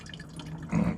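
Homemade wine dripping from a small hose into a shot glass, a brief close trickle and patter of liquid, quiet and alone.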